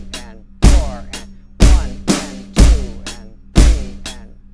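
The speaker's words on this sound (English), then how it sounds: "I like to do an eighth note overlay on the hi-hat and play the snare drum and bass drum as written." Drum kit dance groove with eighth-note hi-hat over snare and bass drum, four strong accented beats ringing out clearly with steady hi-hat ticks between them, played alone with no talking.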